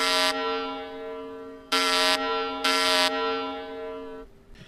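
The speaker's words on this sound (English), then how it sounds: "a loud alarm sounded throughout the lab" A loud, harsh horn-like lab alarm blares in repeated pulses, swelling and dropping between blasts, sounding alone and close.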